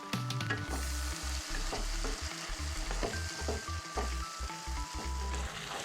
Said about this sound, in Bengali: তো আপাতত মশলাটা আমি কষিয়ে নিই